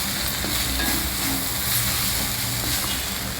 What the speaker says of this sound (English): I am just adding a spoon of fresh grated coconut to this and mix it all well together.